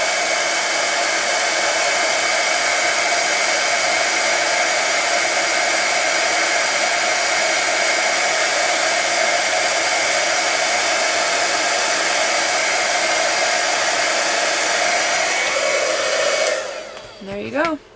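A heat tool blows a steady, loud whooshing roar over embossing powder for about sixteen seconds, then clicks off and winds down.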